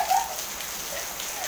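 Steady rain patters on surfaces outdoors, a constant hiss of drops at moderate level with no voices.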